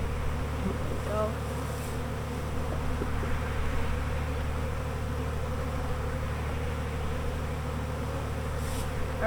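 Honeybees from a Saskatraz nuc buzz steadily in a garden hive setup, a continuous close drone with individual bees zipping past the microphone now and then.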